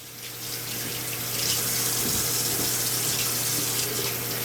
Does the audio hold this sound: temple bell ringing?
no